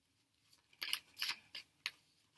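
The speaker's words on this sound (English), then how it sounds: "I'm just gonna pull out a card" A card drawn from a deck makes a few quick, dry papery swipes and flicks, four short bright bursts spaced irregularly, close and fairly quiet with no talk.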